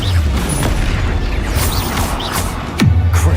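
An Incendio fire spell cast in the video game Hogwarts Legacy, whooshing magical bursts and rumbling booms layered over game effects, ending in a sharp descending swoop and a deep, loud impact.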